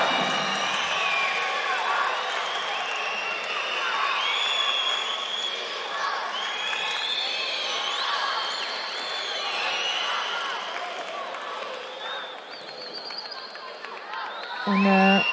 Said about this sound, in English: And some cheering from the crowd as Shikalizada enters his second contest in mat number 1.